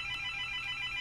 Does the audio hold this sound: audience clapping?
no